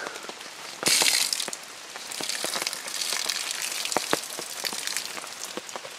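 Light rain patters on leaves and surfaces in a forest campsite, a steady soft hiss with scattered sharper drops, including one brief louder burst near the start, with no talking.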